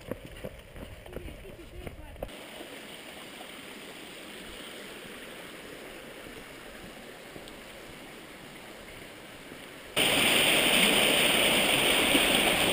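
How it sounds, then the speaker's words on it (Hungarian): Water streams steadily into a lake, a continuous gurgling flow heard outdoors. The sound jumps noticeably louder and brighter near the end, as if the water is now much closer. "Ott oda nézze, folyik bele a víz a tóba."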